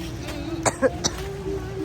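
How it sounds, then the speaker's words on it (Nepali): A person gives a quick cluster of three short coughs with some throat clearing, close and moderately loud against a quiet room background. "खोकी लागिरहेछ काठमाडौँ छिर्देखि"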